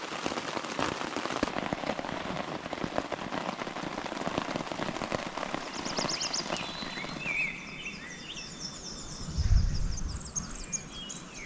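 Rain falling steadily at an evening campsite in the Boundary Waters wilderness along the Little Indian Sioux River, a soft, even patter near and all around, with a few faint bird chirps toward the end.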